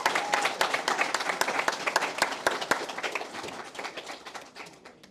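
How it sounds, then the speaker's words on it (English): Graduation audience applauding advisors and program leaders, clapping with distinct individual claps audible near the front, loud at first and then gradually thinning and fading toward the end. "Can we please give a round of applause for your advisors and leaders in"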